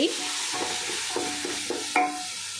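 Onions and ginger garlic paste sizzle steadily in a pan for chicken biryani, with several distinct spoon scrapes as the mixture is stirred, close and fairly loud with no talking.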